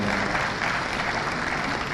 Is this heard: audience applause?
yes